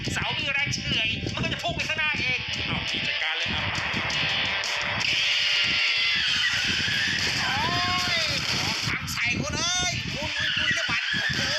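A truck loaded with poles brakes hard, its tires squealing and skidding in long, loud bursts alongside a car, while voices talk over the noise throughout.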